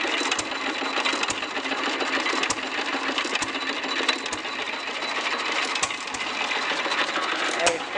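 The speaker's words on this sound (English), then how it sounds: "Hey, it's an economy engine." A 1929 Fairbanks Morse Z two-horsepower economy engine runs steadily and fairly close, giving a dense mechanical clatter with regular faint knocks throughout.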